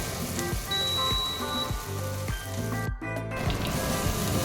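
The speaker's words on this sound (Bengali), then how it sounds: "জিঞ্জার গার্লিক পেস্ট দেওয়ার সাথে সাথেই যেটা স্প্ল্যাটার করা শুরু করে" Ginger garlic paste spattering in a hot pan, a dense crackling sizzle, close and loud, with scraping stir strokes and a brief dip midway, no voices.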